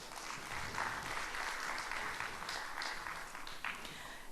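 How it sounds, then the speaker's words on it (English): A conference audience applauds in welcome of a session's speakers and moderator, steady clapping from many hands, fairly faint and distant, continuing evenly without talk. "a big round of applause"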